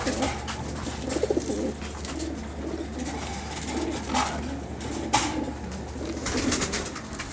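Pigeons cooing in soft, repeated throaty calls at a loft during afternoon feeding, several birds close by with occasional faint chirps and light background noise.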